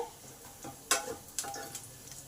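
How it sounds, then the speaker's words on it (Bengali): Garlic fries in hot oil in a pan with a soft steady sizzle. A few sharp clinks and stirring scrapes stand out, and the whole sound is fairly quiet. "রসুনগুলোকে একটু লাল লাল করে ভাজতে হবে"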